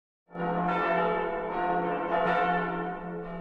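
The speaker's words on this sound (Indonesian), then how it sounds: "terdengar suara lonceng yang menandakan korps pengintai sudah kembali" A large bell rings loudly and steadily, signaling the Survey Corps' return in Attack on Titan, its rich, sustained tone with shimmering overtones filling the air, struck again partway through with no pause in the ringing.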